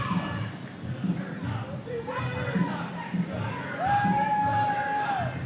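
A crowd at a boxing weigh-in whoops and cheers, a loose noisy swell of voices with a long rising yell near the end, heard under a nearby commentator's talk.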